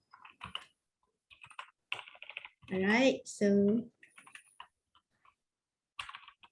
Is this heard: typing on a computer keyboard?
yes